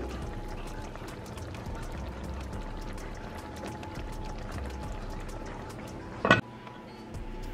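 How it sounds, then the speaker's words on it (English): Water pours into a thickening cooking mixture in a home kitchen, a soft steady liquid trickle running under a low background hum, ending in a brief louder clatter near the close. "Add a little more water."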